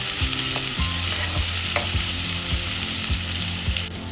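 Chopped onions sizzling steadily in hot oil in a pan for North Indian pumpkin dal, with a ladle scraping and stirring through them at a regular rhythm, close and continuous, with no voices.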